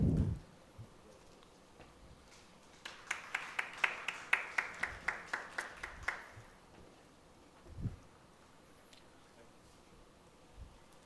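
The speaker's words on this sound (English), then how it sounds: "Can we have a big round of applause, please?" Brief scattered clapping at a training session for peer reviewers, about a dozen sharp claps over three seconds, fairly thin and moderately near, followed by quiet room tone and a couple of isolated thumps.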